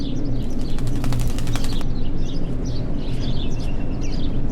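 A bird in a Martha is Dead cutscene: a burst of rapid wing flaps over a dense, loud ambient rumble, with scattered faint chirps continuing after the flapping stops.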